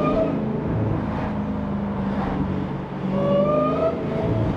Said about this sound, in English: This intake is much louder.